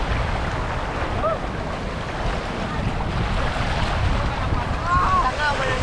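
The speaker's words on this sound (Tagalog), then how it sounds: "Taas ng alon mga kabulikat." A moving boat pushes through high sea waves on a fishing trip, giving a steady, loud rush of water and wind-buffeted noise throughout with no clear breaks.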